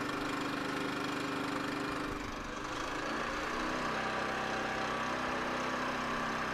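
A Firman W3200i inverter generator runs steadily after a single-pull cold start, giving a continuous, fairly quiet engine hum with a slight dip in its drone partway through and no talking.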